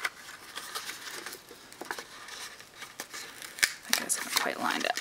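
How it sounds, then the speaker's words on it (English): Paper card folded and creased by hand while assembling a small square pinch top box, with soft crinkling, rustles and light taps scattered through, under a steady background hiss. "I'm simply going to fold this up and attach."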